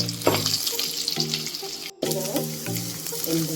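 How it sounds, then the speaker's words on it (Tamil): Finely chopped small onions fry in oil in the same pan used for tomatoes, a steady bright sizzle with occasional stirring knocks and a brief dropout midway. "நம்ம தக்காளி வதக்கின அதே பாத்திரத்தில் நம்ம எண்ணெய் அளவாக ஊற்றி ஒரு 10 சின்ன வெங்காயம் பொடி பொடியாக வெட்டி"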